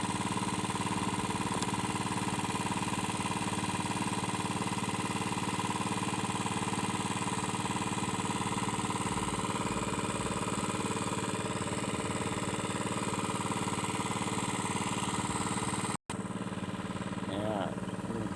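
A water pump engine for watering vegetables runs in a garden, giving a steady, unbroken mid-pitched drone with a humming tone that continues throughout, at a moderate distance.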